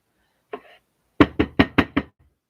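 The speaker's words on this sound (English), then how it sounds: "as the knocking stops, and then the creak of her walking down the steps" Knocking on a door: one soft tap, then five firm evenly spaced raps in quick succession, close and loud against silence.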